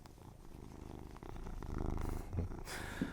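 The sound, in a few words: cat purring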